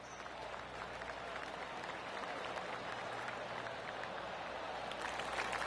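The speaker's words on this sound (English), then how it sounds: "Oh, golf clap. That's a beauty." A golf crowd in PGA Tour 2K25 claps, a dense steady patter of applause held throughout at moderate distance, with no voices over it.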